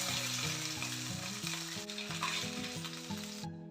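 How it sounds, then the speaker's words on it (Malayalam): Karimeen (pearl spot fish) shallow-fries in a little oil with a continuous hissing sizzle, heard beneath a steady rhythmic musical backing that plays throughout and then cuts off abruptly at the end. "ഇതിനെ ഇനി നമുക്ക് ശാലോ ഫ്രൈ ചെയ്തെടുക്കാം"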